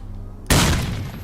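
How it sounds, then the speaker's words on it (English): Grenade blast in the shooter game S.T.A.L.K.E.R.: Lost Alpha, a sudden loud boom after a quiet moment, decaying into a rumbling tail. "That's a grenade."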